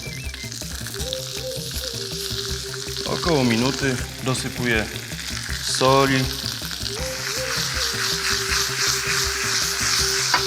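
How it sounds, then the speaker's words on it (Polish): Spinach and pak choi sizzle and crackle steadily in a hot oiled pan, with stirring noises while a person talks over the cooking. "Dolewam oliwy na tą samą patelnię, na której smażyły się krewetki. Wrzucam przepyszny szpinak i naszą kapustę pak choi. Smażę"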